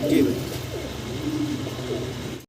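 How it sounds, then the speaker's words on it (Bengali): A pair of large giant homer pigeons coo in low, throaty bursts, repeated close by over a steady background hum. "আমরা বিশাল বড় বিগ সাইজের এক জোড়া জায়ান্ট হোমা দেখাচ্ছি আপনাদেরকে"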